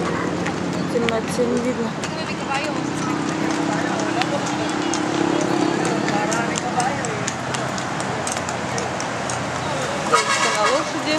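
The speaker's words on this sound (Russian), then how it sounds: "Там лошадки ездят, катают людей." Horses giving rides along a seaside promenade at night clip-clop faintly in the background beneath steady crowd chatter and nearby talking, with distant traffic noise throughout.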